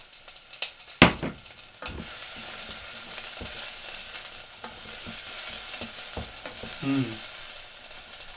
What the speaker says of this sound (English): I love the smell of fried onions